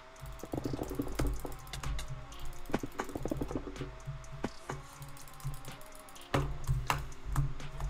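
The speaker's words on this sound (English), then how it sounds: "I know that was way too late, but I tried typing." Rapid typing on a computer keyboard during online gameplay, a dense run of close, crisp key clicks with uneven rhythm and occasional louder taps, with no talk.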